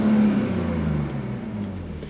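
A BMW 330Ci (E46) engine revs up toward its 6,000 RPM red line and then settles back, a loud, close, smooth droning roar that stays steady before slowly easing down.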